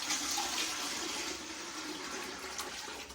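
Tap water runs steadily into a large cooking pot for curing bacon, a continuous loud splashing rush that fills the whole moment with no talk.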